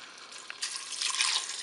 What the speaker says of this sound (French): Maintenant, je vais ajouter mon eau.